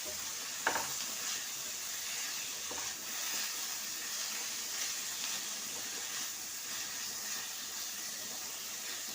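Onion fries in oil in a pot for one-pot winter vegetable rice, a soft, steady sizzle with faint crackles and a couple of light clinks from a spoon, quiet and without talk.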